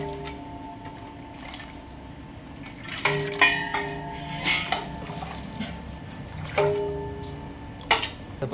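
Vegetable sambar made with brinjal is scooped into a metal vessel, with a few metallic clanks and scrapes of a ladle against the pot and soft wet slurps, close up in a kitchen with a low background hum.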